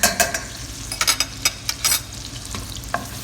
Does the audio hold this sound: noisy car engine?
no